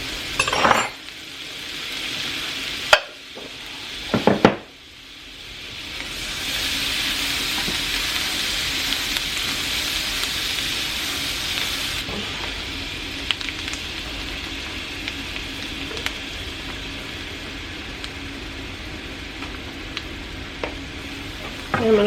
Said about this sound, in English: I'm going to just kind of brown the flour in here.